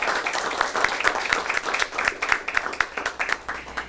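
A speech contest audience claps in a modest round of applause, individual claps audible in a loose, uneven rhythm at moderate distance.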